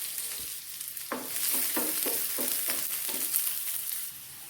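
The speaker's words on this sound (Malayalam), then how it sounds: "ചൂടായ നെയ്യിലേക്ക് കുറച്ച് ഉള്ളിയും കൂടി ഇട്ട് കൊടുക്കുക." Onions drop into hot ghee in a pan and fry with a soft steady sizzle, while a utensil scrapes and taps in a quick series of close strokes.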